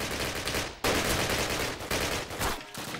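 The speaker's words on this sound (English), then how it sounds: "they're shooting from across" Rapid automatic gunfire in the Call of Duty video game, loud and continuous in dense bursts, with a short break early on.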